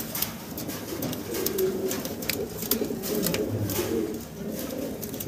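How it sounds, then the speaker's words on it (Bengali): Pair of large blue barless racer pigeons cooing, soft low rolling coos repeating steadily close by over a faint background hiss. "স্ক্রিনে দর্শক আমরা দেখতেছি এক জোড়া রেসার কবুতর আছে, ব্লু বারলেস কালারের ভিতরে"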